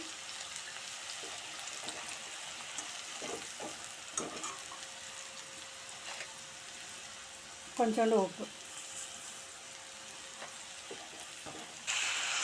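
Low oil sizzle of garlic frying runs steadily beneath a voice speaking, with a few soft clinks and a brief louder scrape near the middle.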